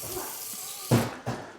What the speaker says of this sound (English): I'm gonna give it a good rinse one more time.